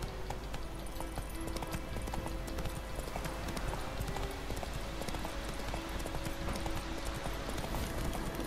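The horse Roach gallops in The Witcher 3 on PS4, with rapid, steady clip-clop hoofbeats on a road and a faint ambient game soundscape underneath.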